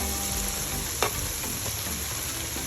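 Chicken fillet pieces frying in oil for Korean fried chicken, a dense, steady, close sizzle throughout with one brief clack of a utensil near the middle and no talking.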